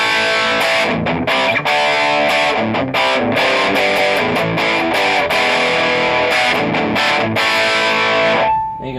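An electric guitar with the drive turned all the way up plays through a Fender Hot Rod Deluxe III. Loud, distorted chords and notes ring in quick bursts and sustained tones, close and alone, until they fade out at the end.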